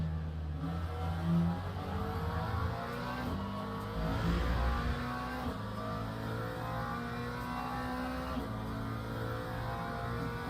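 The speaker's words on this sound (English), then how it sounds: "We got a hypercar flying up behind them here." A hypercar races up behind GT3 cars on track in Italy, with a sustained engine drone and shifting revving tones that swell as the cars pass close.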